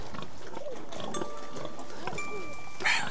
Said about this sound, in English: Here are Pat, there are our pigs.